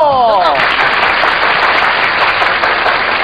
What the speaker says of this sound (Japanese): 拍手でお迎えくださいませ。